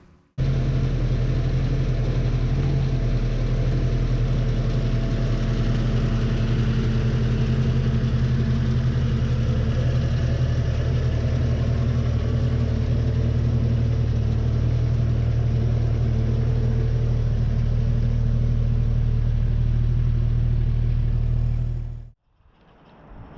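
A Jeep engine idles steadily after a transmission install, a loud, even, close rumble that holds for about twenty seconds before cutting off abruptly near the end.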